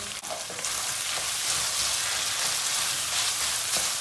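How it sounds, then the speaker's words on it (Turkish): A spoonful of tomato paste sizzles and fries in a pan while it is stirred for zucchini moussaka, a dense, steady crackle that is loud and close with no talking. "Salçayı da iyi kavuracağız."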